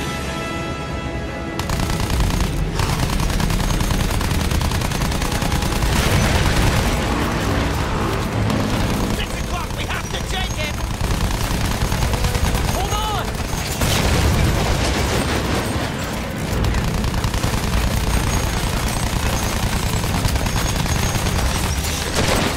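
Sustained gunfire in a Battlefield 1 World War I battle, dense machine-gun bursts and rifle shots layered with booms and explosions, loud and continuous throughout.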